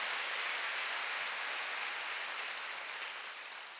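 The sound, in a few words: church congregation applauding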